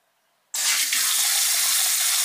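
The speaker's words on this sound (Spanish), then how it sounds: "Abrimos el grifo, nos sale, pasamos la mano" Water bursts on abruptly from a Xiaomi Zanjia smart sensor faucet, triggered by a hand passed beneath it, after brief silence, then flows as a steady close hiss into the sink.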